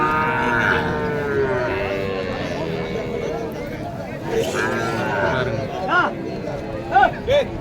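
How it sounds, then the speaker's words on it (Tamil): Cattle, heifers and calves at a cow market in Chinapuram, Erode give repeated loud moos close by, with several calls near the end, while people talk over them. "எவ்வளோ கிடேரிகள் வந்திருக்கு பாருங்கள்"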